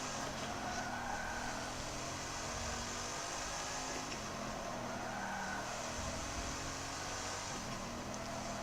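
Bugatti Chiron engine roaring steadily during a race in Forza Motorsport 7, a continuous loud hum with shifting tones and no pauses.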